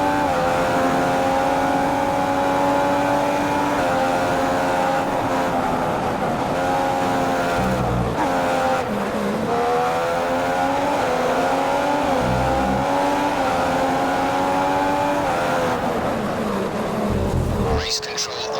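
Race cars in the F1 2015 video game on Xbox Series X scream along with continuous high-revving engines, pitch rising and dropping through gear shifts, loud and unbroken throughout.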